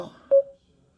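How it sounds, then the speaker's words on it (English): USB and Bluetooth conference speaker from WyreStorm playing a call-end tone, one short clean beep after a faint rustle and then silence. "end the phone call right there"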